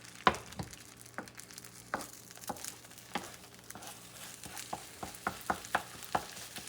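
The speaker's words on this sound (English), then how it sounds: "All right, so we're scrambling our egg." An egg is scrambled in a frying pan with a soft, steady sizzle beneath repeated light taps and scrapes of the spatula, quiet and close, without talking.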